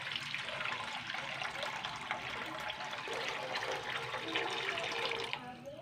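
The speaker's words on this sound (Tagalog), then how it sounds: "lagyan natin sa tubig para sa ating kantun" Water poured from a container into a cooking pan while preparing stir-fried pancit canton with squid, a faint continuous splashing and trickling stream that runs steadily, then cuts off near the end.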